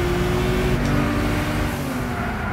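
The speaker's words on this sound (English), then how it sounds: "That turbo is just kicking." A race car in the Gran Turismo video game accelerates hard with its turbo working, giving a loud, continuous engine roar that rises in pitch and then eases off. Nobody speaks.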